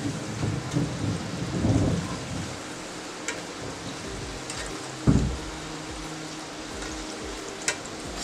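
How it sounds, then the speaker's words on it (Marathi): Moong dal pakodas deep fry in oil over a low to medium flame, a continuous close crackling hiss with soft bubbling, a few sharper pops and light stirring knocks, no talking. "आता स्लो ते मीडियम गॅसवर हे खरपूस होईपर्यंत फ्राय करून घेऊया।"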